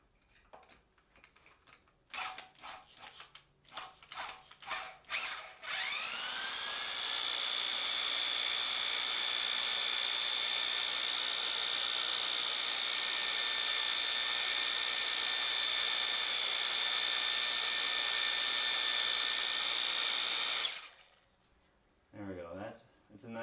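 A power drill whines steadily for about fifteen seconds while drilling out a bolt stuck in a motorcycle fork in a garage, preceded by clicking and handling noises and followed by brief talking.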